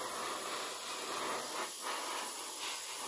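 Airbrush hissing steadily as it sprays light coats of paint onto a Tamiya 1/48 P-38 F/G model, a continuous close, even hiss with slight pulses and no talking.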